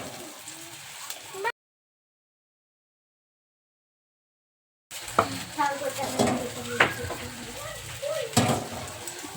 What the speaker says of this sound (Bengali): হালকা একদম আঁচে এটা একটু ভেজে নেব মশলাটাকে